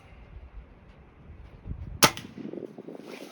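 A single sharp shot from a Crosman Magfire Extreme air rifle during a timed shooting test, a crisp close crack standing out against quiet background rustle.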